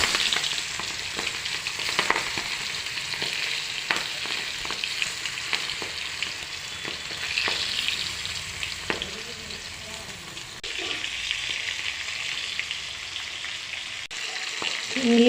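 Prawns fry in hot oil with a steady, dense sizzle and crackle that stays close and loud, broken now and then by stirring and spatula scrapes.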